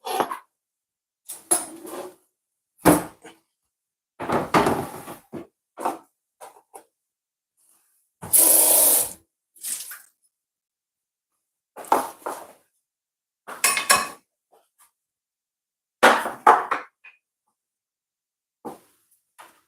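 Kitchen clatter as a cutting board and knife are picked up and cleared away while vegetables are prepped for beef soup with fresh spinach: a series of separate knocks, clinks and scrapes, close and fairly loud, with quiet gaps between them.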